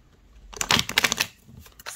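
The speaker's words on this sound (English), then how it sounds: "and then riffle shuffle again." Tarot cards riffle shuffled by hand, a quick close run of crisp papery flutters and ticks lasting about a second, then a few softer taps, with no talking.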